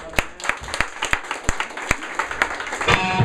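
Scattered claps from a small crowd at a hardcore music show in a house, sharp separate hand claps that thicken into brief applause at the end.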